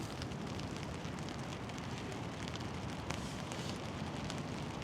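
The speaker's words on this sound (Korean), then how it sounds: "지금 비가 오고 있어가지고" Light rain falls at a campsite beside a teepee tent and a wood fire, a dense, steady hiss of drops with faint crackles, continuous and fairly close, with no talk.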